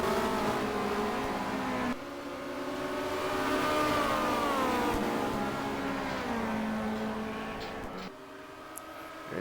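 Touring race cars from Alfa Romeo, Peugeot and Renault compete at Monza in the 1990 WTCC, making a continuous, loud engine drone that rises and falls in pitch as they pass and shift gears.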